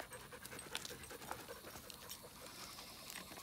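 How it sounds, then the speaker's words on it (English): A dog pants in quick, steady breaths, faint and close, with light background hiss and no speech. "Oh, what a good dog."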